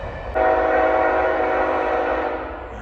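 An eastbound freight or passenger train passes at a railfanning spot near Chesterton and Porter, Indiana, giving a loud, steady rumble with a sustained horn-like tone that starts abruptly and holds throughout.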